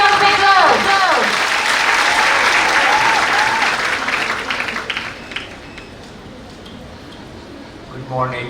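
Audience applause for a speaker called to the stage at the India Japan Fest, a dense, loud burst of clapping mixed with cheering voices that gradually thins and fades over several seconds, followed by near-quiet room tone.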